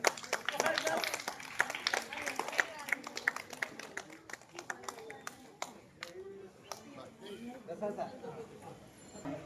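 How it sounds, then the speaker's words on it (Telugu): An audience claps at a yoga gathering: a dense burst of applause at first, then scattered clapping mixed with voices talking throughout. "గట్టిగా క్లాప్స్ నాన్న."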